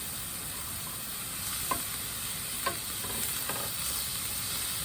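Greens are stirred in a large, thin frying pan over steady sizzling heat, with a few soft utensil scrapes rising above the constant hiss.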